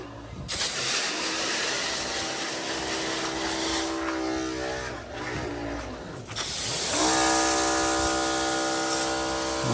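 A garden hose sprays water hard onto sandstone outdoors, a loud, continuous hiss with a buzzing, tonal edge that changes pitch as the spray shifts, then grows stronger partway through.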